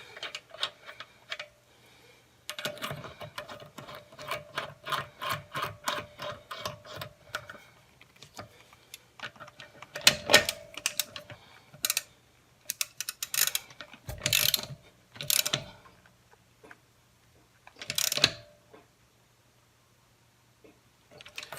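A half-inch drive ratchet wrench turns a socket from a Vevor deep impact socket set, giving rapid runs of close, crisp ratcheting clicks in bursts separated by pauses, with no talk.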